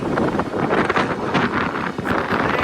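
Strong wind at a mountain pass buffets the microphone in continuous heavy gusts, a loud roaring rumble with no pauses and no voices.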